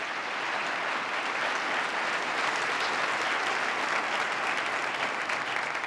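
An audience at a state address applauds a Reverend and a Rabbi after their blessings and invocation, with steady, dense clapping sustained evenly throughout and no talking over it.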